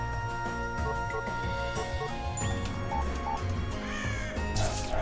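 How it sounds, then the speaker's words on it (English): Crows cawing within the Touhou Scarlet Curiosity video game, repeated harsh caws layered over steady game music and effects throughout. "First, let's get rid of these crows, though."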